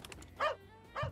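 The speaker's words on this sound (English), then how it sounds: "That's definitely a puppy." A puppy in the video game Espresso Tycoon gives two short, faint yips about half a second apart, with no other sound around them.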